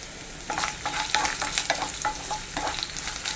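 Ginger, garlic, curry leaves and green chillies fry in oil with a close, crackling sizzle while a spoon stirs them in quick, repeated scraping strokes.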